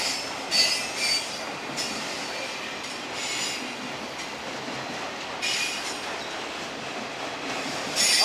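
A freight train loaded with foreign-made cars rolls past at moderate distance, its wheels letting out repeated high metallic squeals over a steady rumbling clatter, with no voices.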